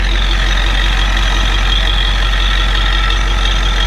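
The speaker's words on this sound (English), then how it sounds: "The engine sounds really good." A 7.3L diesel box truck engine idles in a steady, loud, unbroken rumble, close by with no voices over it.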